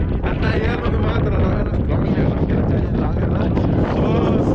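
A strong gust sweeps over the Mullayanagiri hilltop, a dense, loud rush of wind that buffets the microphone without pause.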